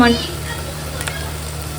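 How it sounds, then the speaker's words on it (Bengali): Mutton brain frying in a pan alongside ginger, garlic and chili paste: a steady close-up sizzle with faint stirring, and a brief voice-like tone at the very start. "আমার মাটনের ব্রেনটা ফ্রাই হয়ে গেছে"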